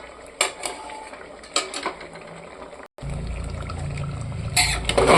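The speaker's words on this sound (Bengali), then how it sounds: "মশলার সাথে আরও কিছুক্ষণ কষিয়ে নেবো এটাকে।" Meat sautéing with spices in a pan, a sizzling hiss broken by scraping stirs and clinks of a utensil against the pan, with a brief cut and louder sizzle toward the end.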